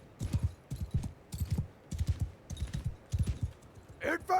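Horse hooves clip-clop in repeated quick bursts across the battlefield in Mount & Blade II Bannerlord, loud and close, with a short whinny-like cry at the end.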